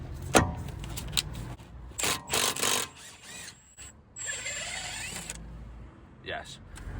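A brake caliper bolt on a BMW E90 335d front brake is worked loose with a 7mm Allen key, giving scattered close ratcheting clicks, creaks and metallic clinks in short irregular bursts with quiet gaps between.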